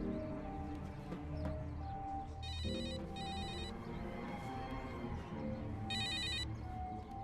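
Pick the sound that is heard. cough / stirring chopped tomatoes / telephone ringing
telephone ringing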